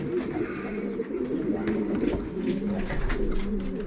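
Racing pigeons coo steadily in a low, throaty murmur, fairly close, with soft flapping and shuffling mixed in throughout.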